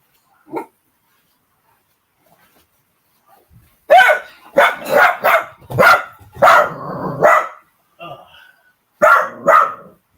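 A pet dog gives a series of close, loud barks and yips in quick bursts, with a short gap before a final pair, indoors in a quiet room.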